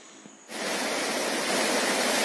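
Rushing water at Kollam Kolli waterfall in Areekode, Kerala, rises abruptly after a quiet half-second and then holds as a steady, broad, dense roar.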